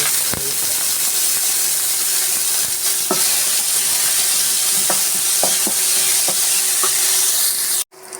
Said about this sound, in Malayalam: നന്നായി വഴറ്റിയെടുക്കാം